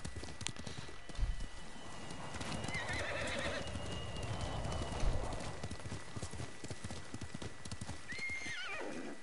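Horses in the video game Ghost of Tsushima, with steady close hoof clip-clops, a whinny partway through and a rising neigh near the end over an ambient game background.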